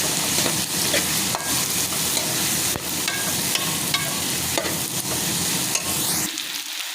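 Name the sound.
stirring and frying chicken in a pan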